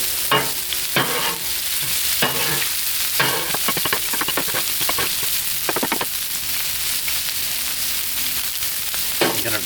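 Pork tenderloin bites sizzle steadily on an outdoor Blackstone griddle, with bursts of scraping and stirring from a spatula breaking through the continuous frying hiss, close and fairly loud.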